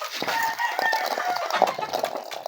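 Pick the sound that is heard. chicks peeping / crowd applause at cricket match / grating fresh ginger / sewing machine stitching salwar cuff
chicks peeping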